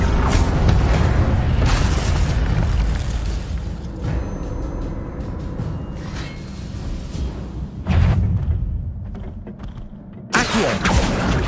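Incendio fire spells and Accio summoning spells are cast in the wizarding video game Hogwarts Legacy, with rumbling, creaking magical bursts over a steady din and sharp, bright flares near the end.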